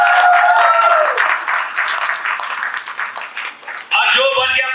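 Audience applause at an award night celebration, a steady loud wash of clapping across the whole stretch, with a voice over a microphone speaking through it and a brief change near the end.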